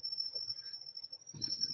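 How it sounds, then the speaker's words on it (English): Crickets chirping outside at night, a thin continuous high-pitched trill that holds steady and faint, with a brief low rumble near the end. "People hate my crickets, man."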